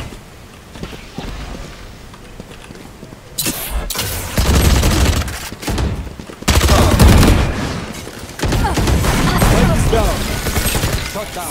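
Video game gunfire rattles in loud, dense bursts and sustained volleys with booming blasts, close and harsh, while players talk over it.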